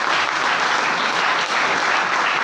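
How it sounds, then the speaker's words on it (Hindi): Loud, continuous audience applause at a health talk, a thick, even wash of many hands clapping with no voices over it. "तो एक बार इनके लिए जोरदार तालियां।"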